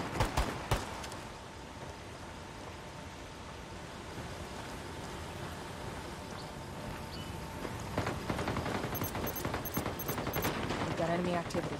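Gunfire in Ghost Recon Wildlands: dense, continuous rapid shooting that builds into heavier bursts near the end, with a voice talking over parts of it.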